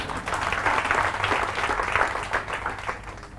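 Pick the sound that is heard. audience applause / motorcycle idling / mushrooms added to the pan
audience applause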